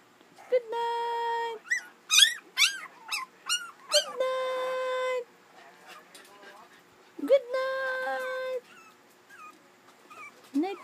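Puppies whimper and yip in a run of high, wavering cries, some drawn out like small howls, close and fairly loud, with quieter gaps between bursts.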